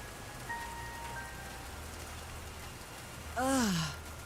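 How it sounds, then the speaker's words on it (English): Rain falls steadily in a video game on a mysterious island, a soft even hiss running throughout, with a short tonal chirp early on and a louder descending sighing voice-like sound near the end. "And I'm back out in the rain."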